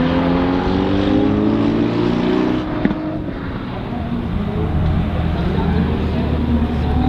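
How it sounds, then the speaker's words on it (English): A misfiring drift car engine at Grange Motor Circuit, loud and rough with stuttering revs and harmonic drone that drops off briefly midway before roaring on; a voice can be heard beneath the noise. "Yeah, it's definitely misfiring."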